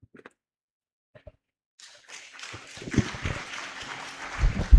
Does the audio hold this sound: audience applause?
yes